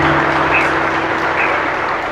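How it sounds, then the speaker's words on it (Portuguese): Loud applause from a church congregation during a novena service, a dense steady wash of clapping with a low sustained hum running beneath it. "E uma grande salva de palmas a Jesus."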